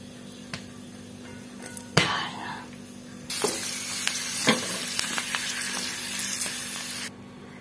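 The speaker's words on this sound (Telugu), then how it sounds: "ఇప్పుడు దీన్ని మనం ఫ్రై చేద్దాం." Puri frying in hot oil for pani puri: a steady, bright crackling sizzle starts abruptly, runs loud and close for several seconds, then cuts off, after a few sharp knocks and taps.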